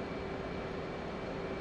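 F/A-18 Hornet jet engine roaring at full afterburner just after takeoff in the DCS flight simulator, a steady, dense broadband rumble with a faint tonal whine, continuous and loud with no talk.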